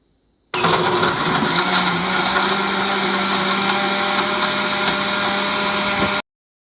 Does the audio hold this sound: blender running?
yes